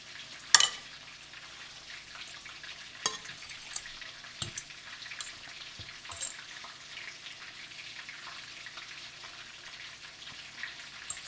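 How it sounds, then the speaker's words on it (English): Soft, steady crackling sizzle of keto-breaded chicken pieces frying in oil, with occasional clinks and pops from a utensil, close and fairly quiet. "as soon as those pieces of chicken finish frying"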